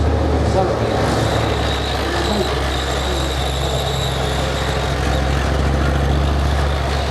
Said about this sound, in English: That rumble of that thumping great MTU diesel engine in the back there